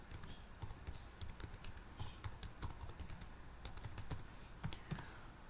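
A password is tapped out on a computer keyboard, a quick, irregular run of crisp, fairly quiet key clicks heard alone.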